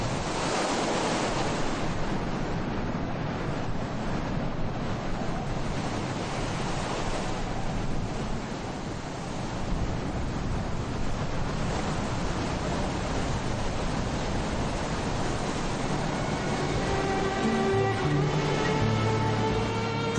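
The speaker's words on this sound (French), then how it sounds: "le vent se met à souffler fort." Strong wind buffeting the microphone at the seaside in Essaouira, Morocco, at high tide, a continuous heavy roar with surf-like rushing, and faint tonal engine whine near the end.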